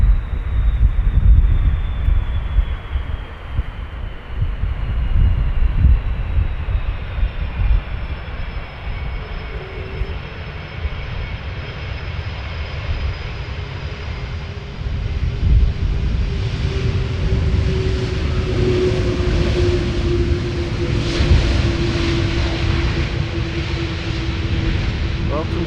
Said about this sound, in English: It's flight 1951 arriving from Istanbul.